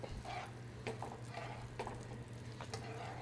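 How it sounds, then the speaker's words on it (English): Bucatini carbonara is tossed in a pan off the heat, making faint, quick stirring scrapes and light clinks of utensil on metal over a steady low hum. "You have to mix, mix, mix, mix, mix, mix."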